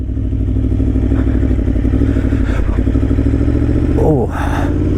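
Aprilia motorcycle engine running steadily and loud with close, continuous harmonic drone as the bike starts downhill, a rising rev sweep near the end followed by a brief dip.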